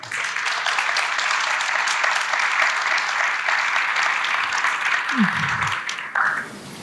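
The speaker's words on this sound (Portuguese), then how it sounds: "para ser aplaudida" Loud, sustained audience applause as a guest is called up to the stage, dense and even for about six seconds before it stops abruptly. A short voice sounds briefly near the end.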